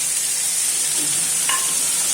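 Bhola fish frying in a pan as masala is tipped in, a steady close sizzle with a faint scrape or two, short and continuous with no voices.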